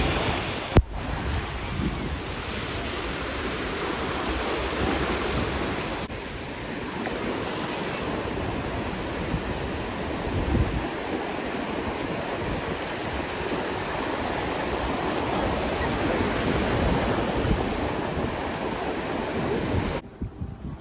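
Ocean surf breaks at Charleston beach under strong wind. A loud, continuous roar of waves runs for about twenty seconds, with buffeting wind noise on the microphone and no talking.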